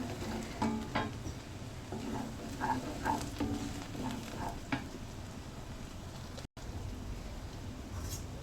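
Garlic frying in foaming mustard oil for a beef pickle, a continuous moderate sizzle punctuated by scattered utensil taps and scrapes, with a brief dropout near the end.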